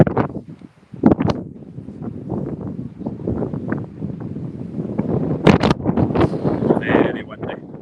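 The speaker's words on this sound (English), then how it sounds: "Very windy, as you can see." Gusty wind roars and buffets the microphone while people talk over it outdoors on a golf course during a club league matchplay final.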